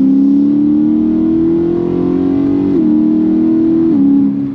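A BMW M3 E92 naturally aspirated V8 engine pulls hard and loud in third gear from 2000 rpm, a steady strong drone rising slowly in pitch with two brief dips like gear changes, close by and alone.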